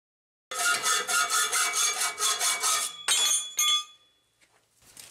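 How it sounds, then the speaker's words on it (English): A horizontal bandsaw cuts through steel pipe, a steady, ringing, rhythmic rasp lasting about two and a half seconds, followed by a couple of short metallic bursts and then near silence. "So I've got it set up in my horizontal bandsaw."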